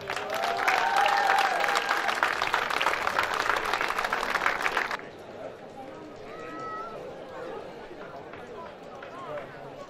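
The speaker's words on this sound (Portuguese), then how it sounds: "Salva palmas para o senhor Humberto Filipe" Festival award ceremony crowd in Calheta, São Jorge claps loudly and steadily for about five seconds, then the applause drops away to quieter crowd murmur and voices.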